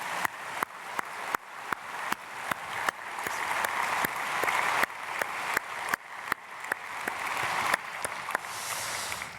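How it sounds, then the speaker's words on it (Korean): A church congregation at a dawn prayer service applauds to bless a family: broad sustained clapping from many people, with regularly recurring sharp impulses sounding through the crowd, lasting several seconds. "우리 집사님 가정 박수로 축복하겠습니다."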